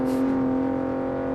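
A Jetta's VR6 engine in a video game hums at a steady idle with a strong low drone and layered harmonics, briefly swelling at the start.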